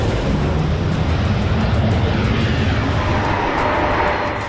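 Su-30SM fighter jets of the Baltic Fleet during a Russia-Belarus military exercise, a loud continuous roar of jet engines filling the whole stretch without letup, no voices.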